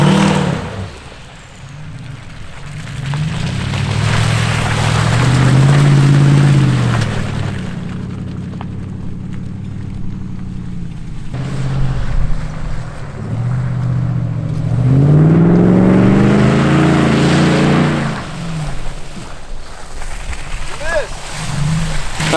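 A SEMA show truck revs hard and ploughs through a thick, concrete-like mud puddle, two loud close engine surges with rising pitch and heavy rumbling, separated by a lower idle.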